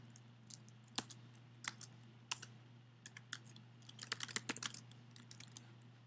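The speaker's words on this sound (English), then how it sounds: "I can just type up there." Someone types on a computer keyboard in a quiet room with a steady low hum, producing sparse taps that pick up into a brisk cluster of clicks near the end.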